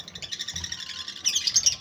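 Gouldian finches chirp in a steady, rapid stream of small high tweets from several birds close by, growing slightly louder and busier toward the end.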